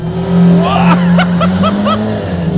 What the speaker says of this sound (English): So into S1, foot on the brake, foot to the floor.